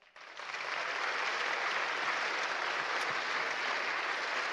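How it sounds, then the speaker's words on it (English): Conference audience at a Ruby programming conference bursts into applause, a dense, even roar of many clapping hands that starts abruptly and holds steady, fairly distant in a large hall. "Give yourself a big applause."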